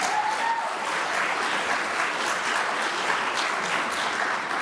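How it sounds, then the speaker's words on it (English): A room full of conference attendees at WordCamp US claps together in sustained, even applause for the organisers and volunteers, dense and continuous from start to finish with no voices rising above it. "I'm going to ask everyone in the room to give a round of applause to the organisers and volunteers of WordCamp US"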